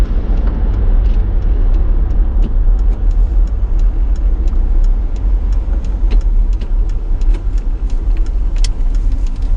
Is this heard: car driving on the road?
yes